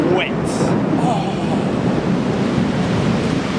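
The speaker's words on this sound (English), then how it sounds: "Rain! Rain!" Heavy rain pours in a dense, steady roar at KL Tower in Malaysia during a thunderstorm, with a constant wash of noise and brief faint higher sounds over it.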